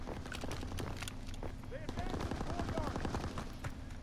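Gunfire in the shooter game Call of Duty: WWII, rapid bursts of shots under continuous background game noise, with people talking over it.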